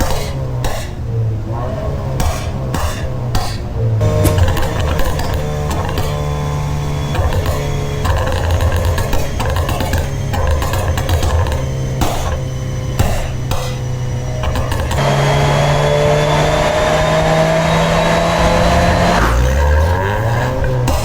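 A 2008-era Honda Jazz GE with a 1.3-litre engine and manual gearbox revs hard on a dyno, its note climbing steadily through long, loud pulls with a brief drop and restart near the end, plus faint voices in the background.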